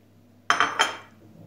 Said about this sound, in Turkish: Ve domatesimizi alıyoruz. Yemeğimizin içine boşaltıyoruz.